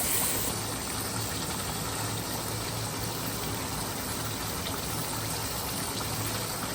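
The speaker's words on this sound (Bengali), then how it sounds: "এখন রোস্ট হচ্ছে এখন হচ্ছে রান্না হচ্ছে লাউ রান্না হলেই আমাদের হচ্ছে শেষ" Spiced bottle gourd cooks in a pan with a masala, a pinch of sugar, and a steady, even sizzle and bubbling hiss throughout, close and continuous with no talking.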